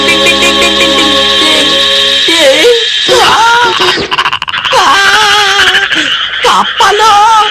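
Cartoon frogs croak loudly in a cartoon scene, a series of warbling, rising-and-falling croaks over a sustained musical tone, close and prominent.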